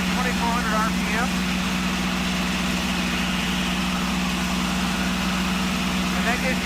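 A P-51 Mustang fighter's piston engine runs steadily at reduced power, 36 inches of manifold pressure at 2,400 RPM, a continuous loud drone from start to finish with faint voices over it.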